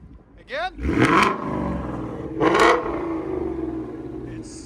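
A six-speed car fitted with an aftermarket exhaust gives two loud, snarling revs over its rumbling idle. A brief voice and a short chirp come in near the start.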